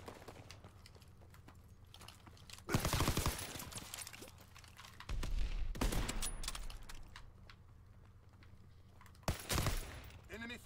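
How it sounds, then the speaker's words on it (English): A PPSh submachine gun in Call of Duty WW2 fires in short, loud rapid bursts, three distinct volleys spaced a few seconds apart against quieter battlefield ambience. "Right, so that was the PPSH."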